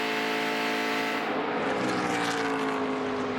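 ARCA Menards Series race cars roar past on the Kentucky Speedway oval, a loud, steady engine drone that swells and shifts pitch as the field goes by, with no talk over it.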